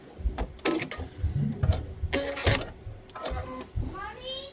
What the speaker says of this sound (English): You're going to just sew a straight line from corner to corner, exiting on the opposite side.